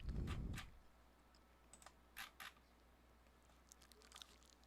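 A few scattered computer keyboard key presses, Ctrl and Enter, clicking softly and briefly after an opening low thump, with quiet gaps between them.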